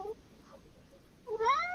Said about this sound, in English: you see how my cat gets when he thinks I need attention